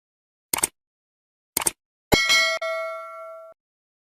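A notification bell sound effect begins with two short clicks, then a bright metallic ding that rings out cleanly for about a second in silence.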